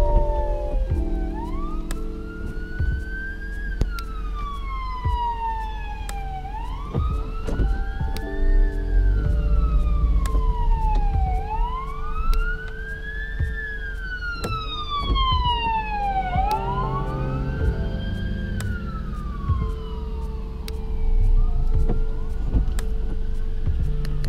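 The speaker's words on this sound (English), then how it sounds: "here comes the fire truck too." A fire truck siren wails loudly and continuously in rising and falling sweeps, heard from inside a car on the road alongside other emergency vehicles, with engine rumble underneath and no talk.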